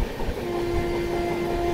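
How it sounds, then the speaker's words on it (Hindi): The New Delhi–Darbhanga Bihar Sampark Kranti Express passenger train runs along the tracks, heard from inside as a steady loud rumble and rattle with a sustained tonal whine. "तो जी अभी अपनी ट्रेन ओवरटेक कर रही है विक्रमशिला एक्सप्रेस को"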